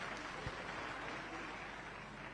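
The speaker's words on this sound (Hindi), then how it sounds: "सबके लिए एक बार जोरदार ताली के साथ सम्मान करो।" A crowd applauds at a live community memorial programme for Minimata's death anniversary attended by Chief Minister Vishnu Deo Sai, a faint, distant and steady patter of clapping throughout.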